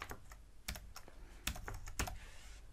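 Password being typed on a computer keyboard: a run of crisp, close keystrokes with irregular rhythm and a few sharper louder taps, with no one speaking.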